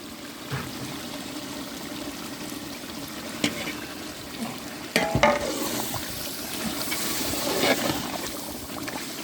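Water pours and splashes into a large pot of Dindigul chicken biryani with a steady trickling rush, some clatter and stirring, no talk.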